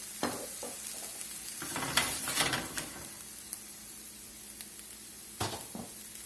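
Vegetables sauté in olive oil in a pan, giving a faint steady sizzle broken by a few sharp clinks and scraping stirs.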